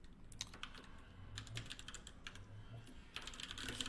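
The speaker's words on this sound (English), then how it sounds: "Apologize for the clacky clack sound of my keyboard." Clacky computer keyboard being typed on nearby, a quick irregular burst of sharp key clicks and clatters, pausing briefly midway before a final flurry, with no talking over it.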